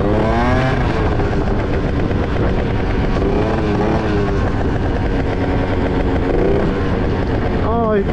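A Simson moped's small two-stroke engine revs and accelerates with loud, wavering pitch sweeps over steady road noise, recorded close while riding, with talk over it.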